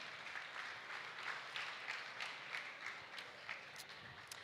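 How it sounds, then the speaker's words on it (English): Spectators at a pygmy goat show clap for the wether exhibitors, a soft, distant patter of scattered hands that holds at a low, even level. "Can we have a round of applause for these weather exhibitors"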